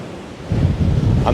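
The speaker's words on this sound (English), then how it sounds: "The cold, wet and windy autumnal weather is moving in" Wind buffets the microphone on a cold, wet autumn seafront at Porthcawl, with a broad rushing wash of surf swelling louder halfway through and holding.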